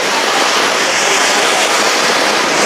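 Diwali firecrackers going off outdoors in Tuticorin, a continuous loud crackling roar of dense explosions filling the whole clip with no gaps.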